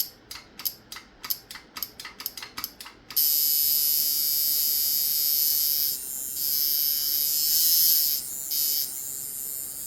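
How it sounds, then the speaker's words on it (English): Coil tattoo machine fitted with aluminum coils, close up: a few rapid stuttering starts in the opening seconds, then a loud steady high-pitched buzz that holds for the rest of the clip, wavering slightly as it is tuned. "it actually runs better with these aluminum coils for some reason than it did with the copper"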